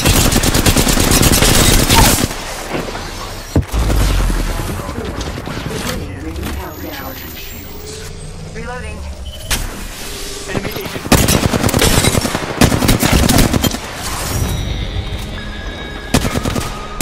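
Bursts of automatic gunfire in the video game Apex Legends, loud and dense in repeated volleys with brief pauses between them, plus scattered game sound effects.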